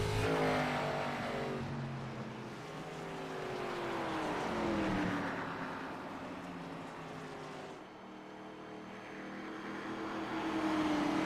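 Steel body race cars in the iRacing game roar around the Milwaukee 150 oval, with loud engine drones that swell and fade as the cars pass. The sound is continuous and overlapping, with no talk.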